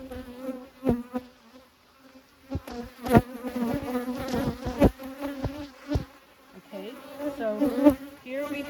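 Honey bees buzzing during a hive inspection, a dense close drone that rises and falls as frames are handled, with bees passing near and brief bumps and knocks.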